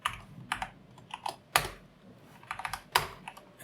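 Keys clacking on a Corsair K100 computer keyboard during coding, in irregular close bursts of several strokes with sharper, louder hits at intervals and no talk.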